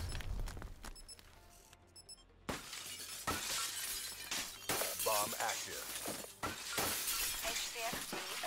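Glass shattering repeatedly in a video game match, sharp crashing breaks and tinkling shards in rapid bursts amid game sounds and beeps, with voices talking over parts of it.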